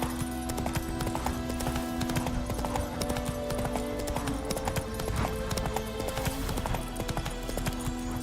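Roach, a horse in the Witcher video game, gallops in a rapid, continuous clip-clop of hooves over a busy game soundscape, fairly quiet and steady throughout.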